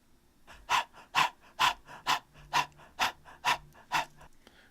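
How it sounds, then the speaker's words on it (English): A singer pants rhythmically as breath percussion, about nine sharp, evenly spaced breaths close to the microphone, dry and unaccompanied. "There's just panting"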